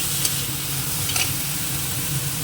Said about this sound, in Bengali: ডাল একটু আগে ভেজে নিয়ে নিই